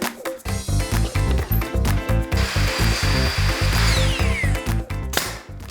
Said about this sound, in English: Not only did I get to use the miter saw